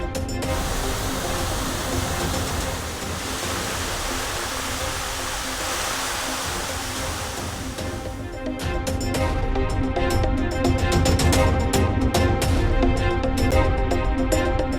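Flash flood at Kavi Aruvi waterfall near Pollachi, a loud, unbroken roar of rushing, crashing water filling the scene from start to end.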